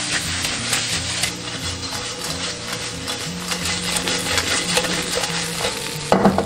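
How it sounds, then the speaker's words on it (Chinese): Steady scraping and sizzling as shrimp are stir-fried over high heat in a wok with minced garlic, diced red and green peppers and tea leaves, a spatula turning the food continuously with a louder clatter near the end. "加入茶叶，开大火翻拌均匀就可以了"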